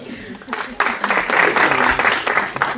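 Scattered clapping from an audience that builds quickly into a brief burst of applause, fairly close, lasting a couple of seconds.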